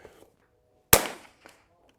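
A single rimfire rifle shot with Eley Ultra Gen 2 ammunition: one sharp, loud, close crack that decays quickly, with faint quiet rustles before and after.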